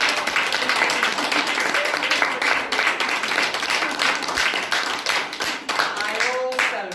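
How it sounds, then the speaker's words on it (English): Wedding guests at a ceremony applaud the newly married couple, with close, crisp hand claps forming a lively, uneven patter throughout, and voices briefly rising near the end. "So let's give them a round of applause."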